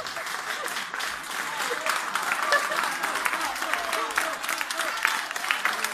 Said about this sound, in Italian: ti prendi tutti gli applausi